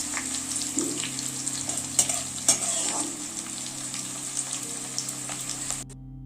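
Tempering spices sizzle steadily in hot oil for a fish curry, a continuous close frying hiss with a few sharp clinks of a utensil, before the sound cuts off abruptly near the end.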